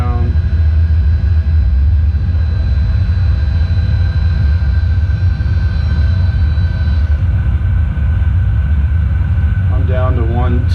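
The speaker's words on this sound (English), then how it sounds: "bringing the gear down" Eclipse 550 jet in a flight simulator game lowering its landing gear, heard as a loud, steady engine and airflow rumble with a faint shift near the end, under a voice.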